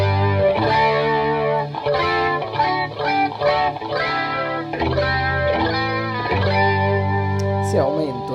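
Distorted electric guitar chords and single notes through AmpliTube's chorus set to a higher level, giving a thicker, more pronounced swirling wobble; loud, steady playing with no voice over it.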